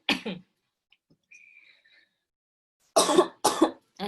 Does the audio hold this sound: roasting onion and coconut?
no